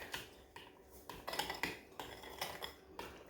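Meatloaf ingredients being mixed in a bowl, with a utensil knocking and scraping against the sides in repeated soft strokes, quiet and close.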